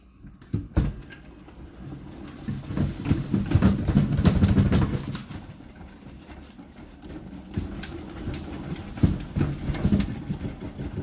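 A honey extractor spins frames to sling honey out of the combs, giving a steady rumbling, clattering whir with irregular knocks and thumps that swells in the middle and then eases off, with no voices.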